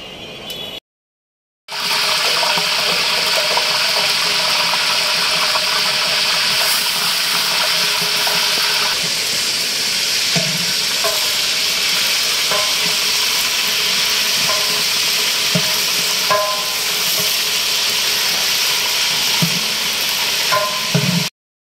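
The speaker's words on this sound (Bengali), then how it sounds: "এটা রোস্ট ভাজার জন্য তেল" Oil for frying a chicken roast at a Dhaka-style wedding cooking, with steady loud sizzling and hiss throughout, occasional stirring clinks and pops, after a brief silent gap at the start.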